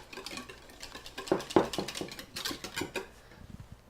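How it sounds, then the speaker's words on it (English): Yogurt is stirred into corn dog muffin batter in a bowl, with close utensil scrapes and clinks against the bowl in an uneven rhythm that is loudest around the middle. "We're going to toss in the yogurt. Just make sure we get all that yogurt in there. Going to mix that in."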